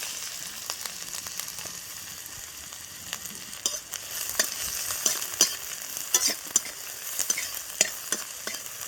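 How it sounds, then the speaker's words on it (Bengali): Garlic sizzles in hot oil with a steady soft hiss, and sharp spatula taps and scrapes grow busier toward the end. "তেল গরম হয়ে গেছে, আমি রসুনটা হালকা করে ভেজে নেবো"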